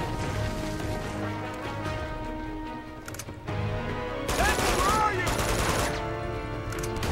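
Shotgun blasts from the action video game Uncharted 2: Among Thieves, loud bursts of gunfire in a busy combat scene with game music and ambient noise, with a voice talking over parts of it.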